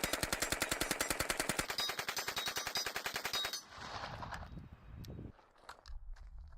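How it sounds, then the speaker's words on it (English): WW2 German submachine gun fired full auto from the hip, with a rapid, evenly spaced burst of close, sharp shots lasting a few seconds, then clatter and shuffling noises afterward. "firing full auto feels great, right?"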